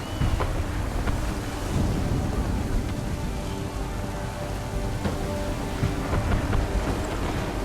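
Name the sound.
thunderstorm at sea in Assassin's Creed 3 video game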